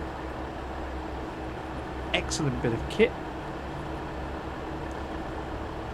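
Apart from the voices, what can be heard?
GWR Class 802 IET train in video game Train Sim World 6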